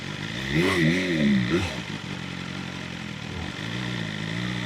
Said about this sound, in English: I'm banging my exhaust for the cars